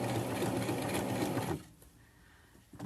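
A sewing machine stitches fabric for machine appliqué, running steadily and loud for about a second and a half before stopping, leaving quiet room noise with faint handling sounds.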